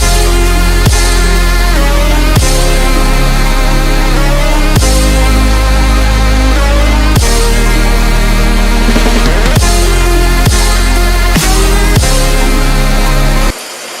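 A bandsaw cuts through wood with a loud, sustained motor whine. The pitch sags and shifts as the blade bites, with sharp changes every couple of seconds before the cut ends abruptly near the close.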